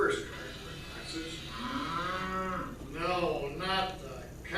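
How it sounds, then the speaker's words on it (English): A cow gives several drawn-out, loud moos close up, rising and falling in long calls with short pauses between them. "No, not the cow."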